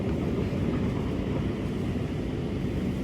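A Sydney Light Rail CAF Urbos 100 tram runs along the L1 line, its steady low rumble and rolling noise heard from inside the car at moderate level.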